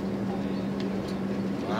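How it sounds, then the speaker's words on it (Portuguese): A truck on a mining highway holds its engine brake on, making a steady, low droning rumble with no break through the short stretch. "Freio motor aí, já tá acionado."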